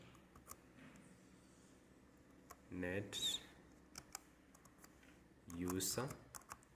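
Someone types the net user command on a computer keyboard, with scattered light key taps and two brief louder clattering bursts, close and fairly quiet.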